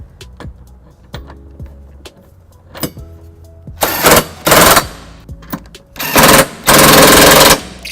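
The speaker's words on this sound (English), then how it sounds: "Now that I gotten the bolts tightened down with the cordless socket" Cordless power socket driving trailer hitch bolts on a 2018 Toyota Highlander. Loud bursts of ratcheting impact rattle come close up, with light clinks and handling noise between them.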